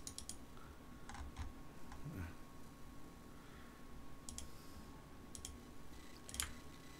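Computer keyboard keys pressed in quick shortcut combinations while programming a PLC, giving faint, scattered clicks and taps over a low steady room hum.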